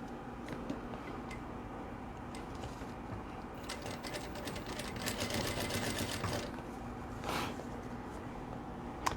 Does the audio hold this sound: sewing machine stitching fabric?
yes